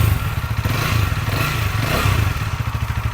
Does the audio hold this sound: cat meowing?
no